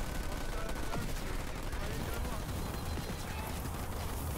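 Dense, rapid gunfire crackles through a Halo Wars 2 battle, a steady wash of overlapping shots and bursts running unbroken at moderate loudness.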